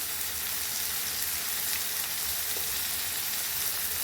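Tomatoes cooking in a pan for gongura chicken give a steady, even sizzle with a faint hiss throughout, continuous and fairly close, with no talking.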